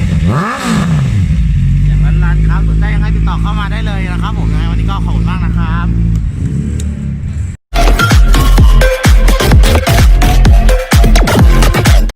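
A 2017 LED-headlight Honda CBR650F motorcycle engine revs close by, rising and falling through several throttle blips before a harsher, dense exhaust roar with rapid clattering pulses.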